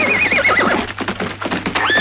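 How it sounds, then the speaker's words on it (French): Horses neigh and whinny loudly in a hurried getaway scene, with a long high whinny at the start and another at the end, over steady clip-clop of hooves and rumbling background noise. "Vite, les chevaux, Mortimer!"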